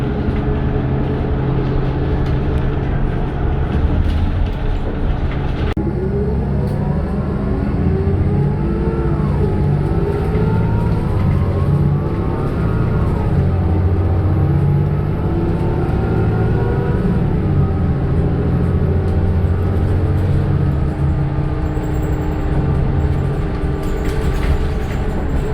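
BCI Citirider bus drives along with a steady, loud engine drone and road rumble, its pitch gliding up and down through gear changes, with no talking.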